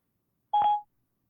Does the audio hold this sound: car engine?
no